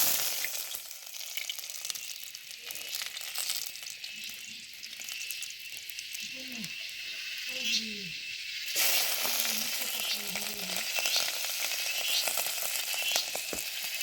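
Garlic sizzles and fries in a hot pan for a forest tribal-style mushroom curry, a steady close crackling hiss that swells louder and brighter halfway through as more goes in, with faint stirring underneath.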